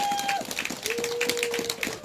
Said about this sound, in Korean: 박수 한번 쳐야 되는 거 아닙니까?